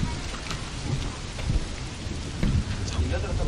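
Steady heavy rain hisses during a thunderstorm at Cerro Leones quarry, with a dense continuous wash and occasional dull low thumps beneath it.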